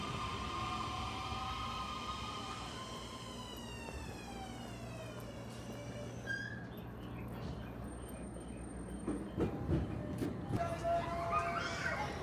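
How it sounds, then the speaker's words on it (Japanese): A train pulls into Ebina Station in Japan at dusk with a rising and falling mechanical whine, then brakes squeal and clatter near the end over a steady rumble; faint, no talking. "運行本数少ないくせに夕景を撮影する間もなく電車が来てしまった"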